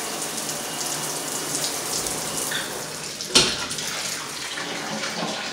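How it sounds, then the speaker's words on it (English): Household shower running in a bathroom during a home walkthrough, a steady broadband hiss of spraying water with one brief louder knock partway through, no talk. "Shower works, no leaks."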